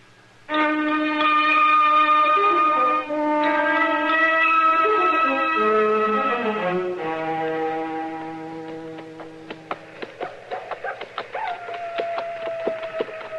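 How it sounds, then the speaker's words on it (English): A long, wavering howl with rising and falling pitch, like a coyote, fades into a series of sharp clicks and taps. "Mr. Dillon, you reckon that's a coyote singing"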